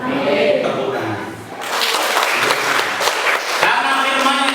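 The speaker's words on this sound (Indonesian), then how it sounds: "Tepuk tangan." A church congregation claps during an expressive worship service, a dense roar of applause that dips for a moment and then swells back strongly, with voices mixed faintly into the clapping.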